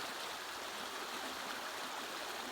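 A small river flows at a trail crossing in the Maine woods along the Appalachian Trail, a steady even rush of water that stays constant and fairly faint throughout.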